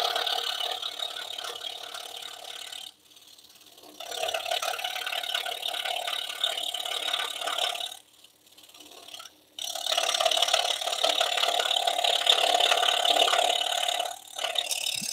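A scroll saw cuts feather lines into a wooden bird with a steady, close mechanical buzz and rattle. The buzz stops briefly twice, as the blade backs out of cuts, then resumes at the same level.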